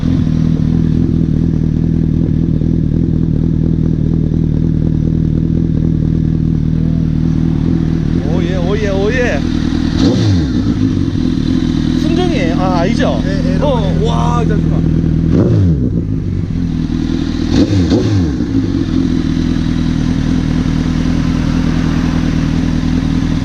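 A Honda CBR1000RR sport motorcycle idles with a deep, steady rumble, then its exhaust is revved in several sharp bursts, loud and close, with people talking briefly nearby.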